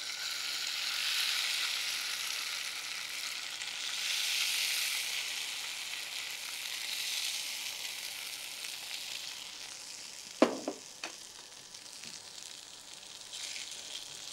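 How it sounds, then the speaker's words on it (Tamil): Idli pieces frying in hot oil, a steady close hiss and sizzle that swells and eases, broken by a few sharp clinks near the end, with no voices. "இந்த எண்ணெயில் ஃப்ரை பண்ணிக்கலாம்."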